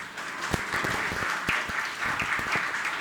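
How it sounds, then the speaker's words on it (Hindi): An audience at a religious question-and-answer gathering with a Jain monk claps together, a lively, even patter with a few sharper, nearer claps standing out from the crowd. "आप लोग तालियों के साथ में"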